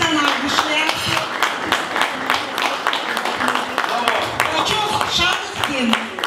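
An audience claps steadily for Heidi Kühn, a dense patter of hands that runs the whole time beneath an announcer's voice.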